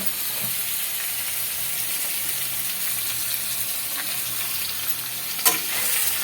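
Mutton sizzles and fries steadily in hot oil with onions, a dense continuous crackle with one brief sharper pop near the end; no voices.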